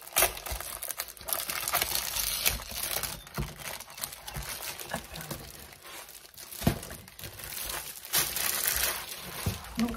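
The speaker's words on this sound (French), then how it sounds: "je suis en train de chercher pour l'ouvrir" A delivered parcel being opened, with continuous close crinkling and crumpling of packaging, irregular rustles and tearing bursts throughout, no speech.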